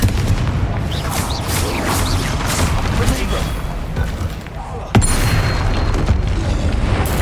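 A Confringo blasting spell in Hogwarts Legacy sets off dense, booming explosions that roar continuously, with a sharp fresh blast near the end, over game sounds and voices.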